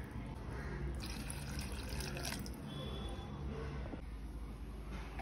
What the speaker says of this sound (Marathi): आता याच्यामध्ये पाणी घालायचं आहे